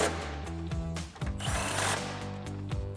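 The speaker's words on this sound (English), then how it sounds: "we'll grab our impact with our extension and 13mm socket and tighten those two down" Impact wrench driving 13mm bolts on a Dodge Challenger coil-over install, a loud rattling whir with a steady mechanical hum. The whir surges and hammers in the middle, then settles back to a rhythmic buzz.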